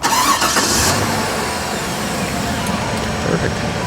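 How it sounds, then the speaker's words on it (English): A high-mileage car engine cranks and catches, then settles into a steady idle close by, with some speech-like sound mixed in. "Go ahead and start her up."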